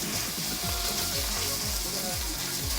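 Rinsed Miracle Noodles dropped into hot oil in a pan set off a loud, steady sizzle and crackle that holds without a break, with no one talking.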